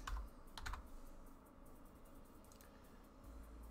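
Quiet keystrokes on a computer keyboard: a quick cluster of clicks at the start, a pause, then a few more taps, close and alone.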